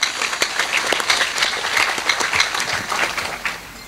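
Audience applause at an Islamic religious lecture, a dense, steady patter of many hands clapping at close range for several seconds, with no speech over it.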